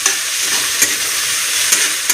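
Chopped tomato fries and is stirred in a pan for a chicken masala, a steady bright sizzle with occasional soft clicks of the spoon against the pan, close and alone.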